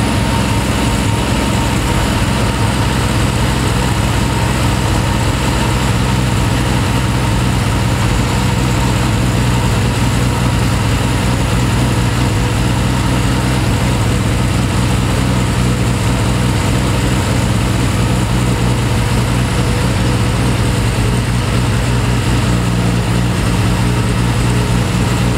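A British sports car engine fitted with Zenith Stromberg or SU carburetors idles at around 1300 RPM, giving a loud, steady, continuous drone close by with no talking.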